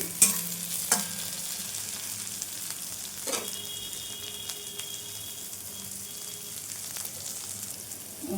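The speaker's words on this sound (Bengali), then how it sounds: "দিয়ে রসুনটা একটু ভাজাভাজি করে নিচ্ছি" Garlic with a green chilli and browned onion being stir-fried in a pan, giving a steady close sizzle with occasional sharp scrapes and clinks of the spatula against the metal.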